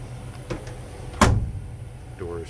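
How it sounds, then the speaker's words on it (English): Doors of a 1972 Ford F100 truck with a 302 V8 shutting, one solid close thump standing out in the middle, with fainter knocks before and after. "Doors shut nice and solid."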